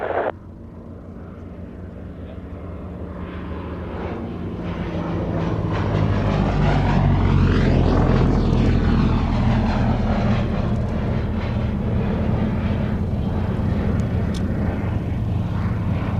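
The Mystery Ship vintage aircraft's engine running as it taxis at the Shuttleworth air show, a steady throbbing drone that grows louder and closer midway, then holds with a pulsing rumble.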